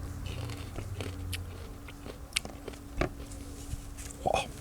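Someone bites into a fresh peri peri chilli, a few sharp crunching snaps followed by soft chewing, close up and scattered over a few seconds.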